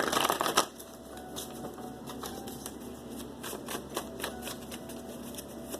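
Tarot word cards shuffled by hand, a brisk burst of riffling at the start followed by a steady run of soft, quick card flicks and taps, close and alone without any talking.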